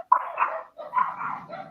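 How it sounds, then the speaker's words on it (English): Dogs barking in a few quick, mid-distance yaps, two short bursts separated by a brief pause. "Apologize for the dogs."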